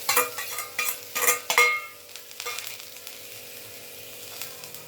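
Bitter gourd and onions stirred in a hot pan: a few scraping stirs with a spoon over crackling, then a softer, steady sizzle of frying settles in alone.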